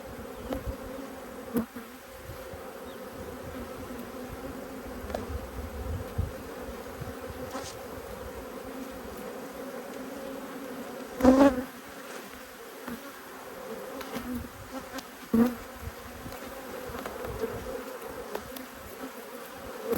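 Angry honey bees buzz steadily around an opened hive during an inspection, a dense close swarm drone lasting throughout, with a few sharper louder passes of individual bees near the microphone.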